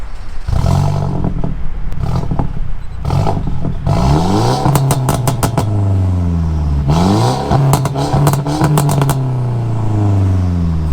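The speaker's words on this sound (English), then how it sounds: "So hop up in it and give us a few revs." A tuned Stage 2 Mercedes C300's engine idles close by, then revs up sharply several times, roaring and rising in pitch before dropping back to idle.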